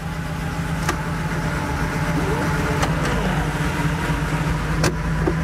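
Engine of a Porsche 3.2 Carrera idling roughly just after starting, a steady low rumble with a few sharp transient clicks over it, close by and continuous.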